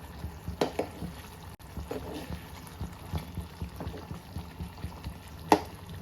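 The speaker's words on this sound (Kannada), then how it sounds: "ಈಗ ಚೆನ್ನಾಗಿ ಕುದಿ ಬರ್ತಾ ಇದೆ" A Konkani-style drumstick curry bubbles in a pot over the flame. Quiet, irregular pops and gurgles rise and fall, with a few sharper blips.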